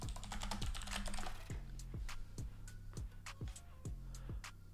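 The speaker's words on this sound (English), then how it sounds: "Love some good keyboard ASMR." Fast typing on a computer keyboard, a steady close run of crisp key clicks and clacks with no one speaking, heard alone over a faint background.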